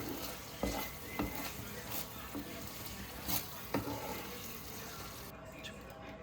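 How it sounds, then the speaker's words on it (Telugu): A baby corn dish is stirred in a pan over a bed of steady sizzling, with several sharp scrapes and knocks of the spoon at irregular intervals, the hiss cutting off briefly near the end. "బాగా కలుపుకుందాం."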